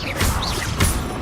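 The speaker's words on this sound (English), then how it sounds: "Incendio!" Fire spell cast in Hogwarts Legacy, a brief whooshing burst with two sharp impacts about half a second apart, moderately loud over game ambience.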